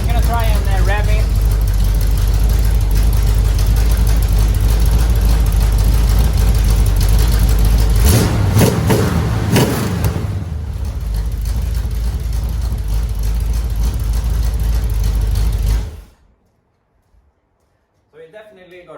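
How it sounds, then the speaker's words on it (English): A Chevelle engine with a fresh cam swap and low compression idles and revs through oversized mufflers, a loud, deep exhaust rumble that rises in a rev burst midway, then cuts off to near silence. "I'm gonna try and rev it."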